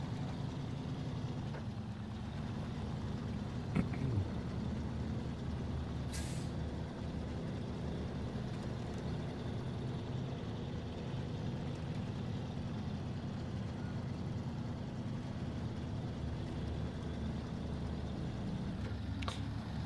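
A heavy truck engine in the video game SnowRunner drones steadily throughout, with a brief hiss like an air brake partway through and no talking.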